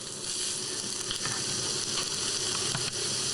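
Bacon and mushrooms frying in a pan give off a steady, close sizzle with continuous crackling hiss and no pauses throughout.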